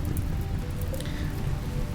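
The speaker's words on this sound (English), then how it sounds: "Oh, we got rain." Steady rain falling in the colony-building game Rimworld, a constant dense hiss of drops on surfaces that stays even and fairly loud throughout, with no voices.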